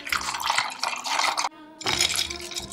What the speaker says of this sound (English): And add in some water.